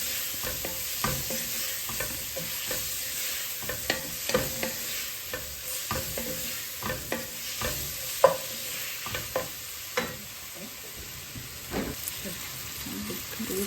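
Curry leaves frying and being stirred into egg roast masala, a steady sizzle broken by repeated scraping stir strokes, close and moderately loud, with no talking.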